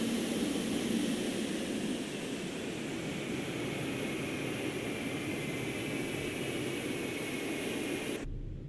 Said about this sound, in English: to turn off the engine, simply just cut the fuel